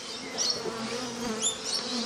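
Honey bees buzz around a backyard hive, a dense, steady droning hum with individual insects passing close by now and then.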